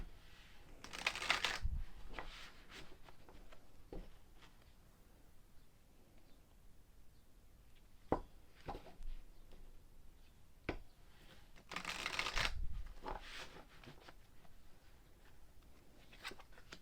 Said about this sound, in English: This is a larger deck for me to shuffle,